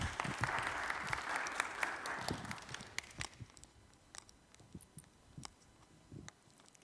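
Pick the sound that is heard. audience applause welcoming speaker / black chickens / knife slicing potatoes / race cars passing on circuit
audience applause welcoming speaker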